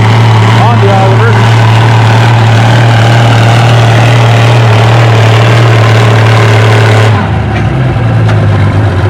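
An Oliver pulling tractor in the 6 mph, 4,500 lb class at a tractor pull runs with a loud, steady low engine drone that shifts abruptly near the end, while voices talk over it.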